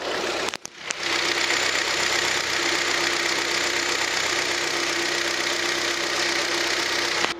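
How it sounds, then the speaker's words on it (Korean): Following a short clunk, a Hyundai YF Sonata engine idles close by with the hood open, a smooth, even hum and faint ticking, steady the whole time. "엔진 소리 한번 들어볼게요."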